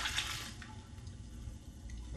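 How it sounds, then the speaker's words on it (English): Liquid poured into a well in dry powdered batter for homemade vegan meat, a steady wet pouring and sloshing that runs continuously for a couple of seconds at moderate volume with no talk. "we're going to pour in our liquid"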